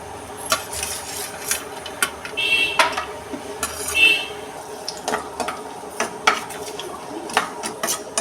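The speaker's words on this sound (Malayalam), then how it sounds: "നമുക്ക് ഇതിനകത്തിലേക്ക് ആദ്യം അണ്ടിപ്പരിപ്പിട്ട് വറുത്ത് കോരാം" Cashew nuts fry in hot ghee in a pan for egg biryani, a low crackling sizzle broken by frequent close clinks and scrapes of a stirring spoon against the metal.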